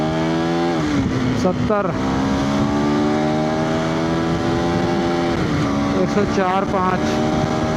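A KTM Adventure 390 motorcycle accelerates hard through its gears, engine pitch climbing, dropping at each upshift and climbing again, loud and close throughout, with a rider talking over it.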